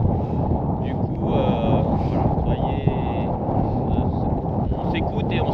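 Strong wind buffeting across a high mountain ridge on the Gran Paradiso, a constant loud roar with gusty microphone rumble throughout, while people talk over it.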